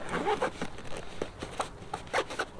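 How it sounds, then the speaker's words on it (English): A zipper runs in several short quick pulls as a camp stove case is closed, crisp and close by, with small crinkling between strokes. "I always like to close my case in the middle with the zippers because it's easier access"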